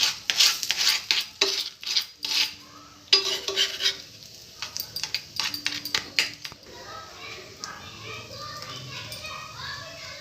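A cabbage and egg omelette paratha frying in ghee in a pan, with scraping and clinking of utensils at first, then a softer continuous sizzle, and some voices faintly in the background.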